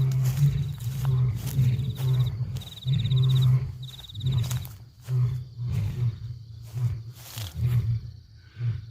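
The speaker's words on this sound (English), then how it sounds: "the lions are roaring their heads off over here" Lions on an African bowhunting safari roar repeatedly from some distance, deep rumbling calls swelling and fading in a rhythmic series, with crickets or insects trilling faintly in the background.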